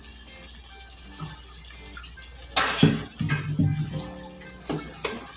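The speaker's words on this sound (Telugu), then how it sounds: "నీళ్ళు వేసుకుందాము." Water poured into a pan of drumstick and egg curry, a splashing pour with several bursts of sizzling and sloshing against a steady kitchen background hum, close and moderately loud, with no talking.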